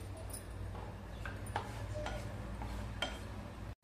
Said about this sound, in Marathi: त्याच तुपावरती मगजबी पण आपण तळून घेऊया.